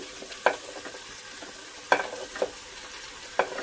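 Bottle gourd pieces tossed into a pan of fried onions, with a steady low sizzle broken by a few sharp spatula scrapes and clinks at irregular intervals, close and fairly quiet.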